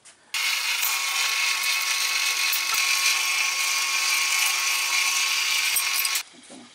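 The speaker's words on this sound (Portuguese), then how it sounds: "Já vou pegar essa chapinha aqui, já fazer dois furinhos nela" A power drill bores holes in a small metal plate, a steady high whine held for about six seconds with a sharp start and stop, close and loud.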